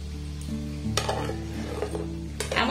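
Freshly fried flour jalebis are turned over in hot sugar syrup, giving a close, steady bubbling sizzle with soft stirring scrapes and a few light metallic clinks of the utensil.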